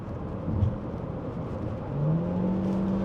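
A BYD plug-in hybrid car's engine and road noise swell as it accelerates hard, a rising whir building up inside the cabin, fairly muffled and steady.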